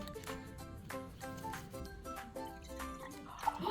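Water drips and trickles softly out of a glass in a classroom demonstration of hydrophilic and hydrophobic substances, faint small splashes over a background hum, with a brighter drip near the end.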